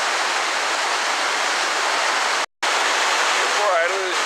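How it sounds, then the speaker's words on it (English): Rushing water at Hogs Back Falls in Ottawa, pouring down a small gorge below a dam in autumn, a dense steady roar filling the scene, close and loud, with a brief cut in the middle. "You can hear a little more of the rush of the water"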